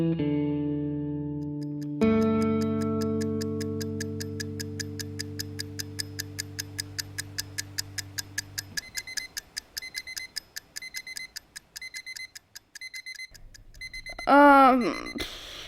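An alarm clock ticks steadily on its own for several seconds, then its bell-like electronic ringing builds in a fast repeating pattern, close and fairly loud, before a brief swooping effect ends it.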